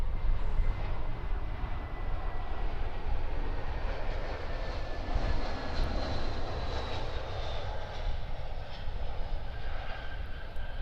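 Jetstar Airbus A321-200 airliner landing on runway 03 at Perth Airport, a steady loud jet engine roar with a broad rushing hiss that holds throughout, no talk over it.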